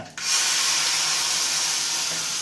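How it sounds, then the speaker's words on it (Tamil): A ladle of rasam, spiced with mustard seeds and cumin, pours in a steady close hiss that starts abruptly and holds evenly for about two seconds. "ஒரு ரசத்தை ஒரு கரண்டி எடுத்து ஊற்றினா"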